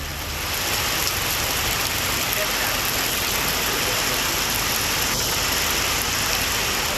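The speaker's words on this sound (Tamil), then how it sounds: "கடலூர் மாவட்டம் சிதம்பரம் சுற்றுவட்டாரத்தில் பலத்த காற்றுடன் மழை பெய்தது." Heavy rain driven by strong wind around Chidambaram in Cuddalore district, a steady loud broadband wash with constant gusting roar that holds unbroken for several seconds, with no voices.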